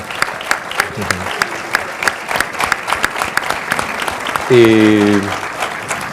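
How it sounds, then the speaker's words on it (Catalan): Audience applause in a cinema at a series premiere, honouring a woman seated up in the stalls; crisp, dense clapping throughout with a brief tonal voice or shout rising near the end. "Un aplaudiment per a ella."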